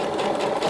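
A sewing machine stitches forward along a blouse seam, giving a brief, steady, close-up mechanical whir with a fast, even pulse.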